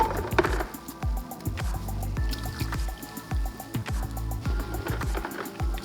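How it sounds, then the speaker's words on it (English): Hot water pours into a UPR oil catch can during cleaning. It makes a close, steady trickling and filling sound with a gurgling pulse that runs for several seconds. "Ooh, that's hot water."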